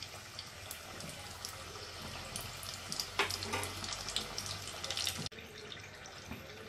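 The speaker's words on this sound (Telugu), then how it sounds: "ఆయిల్ కొంచెం వేడైన తర్వాత మనం తయారు చేసుకున్నటువంటి సమోసాలను వేసుకొని లో ఫ్లేమ్లో రెండు వైపులా వేయించుకోవాలి" Coconut chocolate sweet samosas deep frying in hot oil on a low flame, a soft continuous bubbling sizzle with fine crackles, quiet and close, briefly cut by a clunk near the end.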